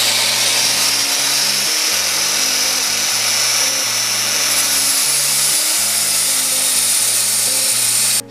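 Wood being sanded on a spinning lathe, a loud, continuous whirring hum with a steady high hiss of abrasive on the turning workpiece, unbroken until it cuts off abruptly at the end.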